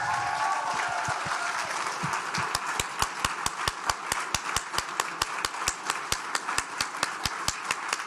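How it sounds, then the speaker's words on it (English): An audience at an adult basic education graduation ceremony applauds loudly, and the clapping soon falls into a steady, rhythmic beat in unison. "another round of applause for all of our graduates here tonight"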